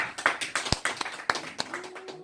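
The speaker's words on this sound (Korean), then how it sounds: "큰 박수로 모시겠습니다." An audience at a church gathering claps to welcome a pastor, with scattered, uneven claps from a modest crowd sounding at moderate distance.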